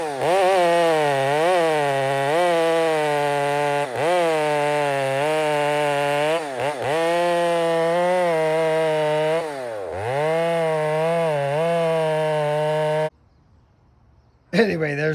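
A chainsaw fitted with a freshly hand-sharpened chain running continuously under load, its engine pitch dipping and rising as it cuts, loud and close, then cutting off briefly near the end before restarting.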